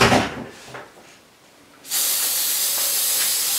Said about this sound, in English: I want you to spray up and around this edge